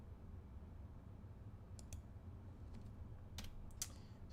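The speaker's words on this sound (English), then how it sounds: "Oh, and you can hear the keyboard." Computer keyboard typing, a few soft scattered key clicks over a steady low hum, faint and near with no talking.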